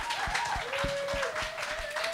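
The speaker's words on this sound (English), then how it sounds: "let's give our panel a round of applause for being awesome" Brief audience applause for a women's discussion panel at a NORML Canada event, a steady patter of clapping from a modest crowd, with a faint tone and a few low thumps underneath.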